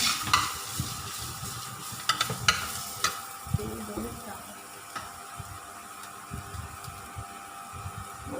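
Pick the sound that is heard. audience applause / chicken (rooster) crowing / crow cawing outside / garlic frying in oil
garlic frying in oil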